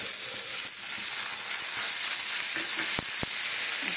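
Ginger, green chilli and onion sizzle in a pan with a steady, even hiss throughout, broken near the end by two quick sharp clicks, with no talking.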